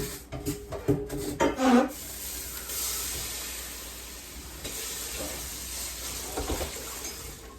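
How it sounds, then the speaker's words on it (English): Harsh scraping and sizzling as water hits a hot pan, with clattering bursts early, then a softer continuous hiss. "A lot of people say don't run water over a hot pan."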